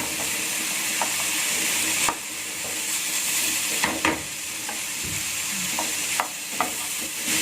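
Curry powder frying in a pan while being stirred, giving a dense, continuous sizzle and hiss with a few louder scraping strokes of the spoon.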